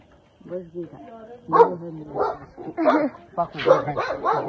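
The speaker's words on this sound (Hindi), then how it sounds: "वहाँ उस पर भौंक रहा है कुत्ता" A village dog barks several times in quick bursts, close and fairly loud, with people talking over and between the barks.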